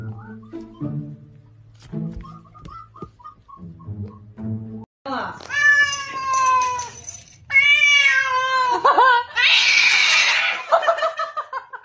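A tuxedo cat meows and yowls in drawn-out, wavering cries, close and loud, after a stretch of faint tonal background sound, ending in a harsh hiss-like burst.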